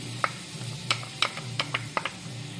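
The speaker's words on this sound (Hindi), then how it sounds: "प्याज को बस थोड़ा सा इसमें फ्राई करेंगे, हमें इसमें कलर नहीं चाहिए, बस हल्की सी फ्राई करनी है प्याज" Chopped onions are stirred in melted butter in a pan: a steady low sizzle runs beneath a string of crisp, close spoon taps and scrapes at irregular intervals.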